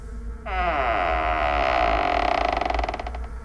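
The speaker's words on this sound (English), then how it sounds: "she heard the door slowly open again" A door slowly creaks open in one long, loud, drawn-out groan that starts abruptly, holds steady, then wavers into a stuttering rattle before stopping.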